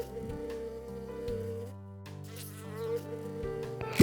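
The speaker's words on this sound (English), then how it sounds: "bee," A bee buzzes in a steady, droning hum that wavers slightly in pitch for about four seconds. It is heard up close and alone.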